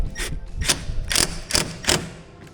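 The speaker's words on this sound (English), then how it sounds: "So we're using the impact in here" An impact driver runs a 3/16 Allen bit, tightening a screw on a 2015-17 Ford Mustang rear diffuser. It sounds as five short, loud rattling bursts about half a second apart, with no talk.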